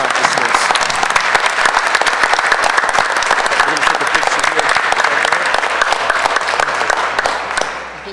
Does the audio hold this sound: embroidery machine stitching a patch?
no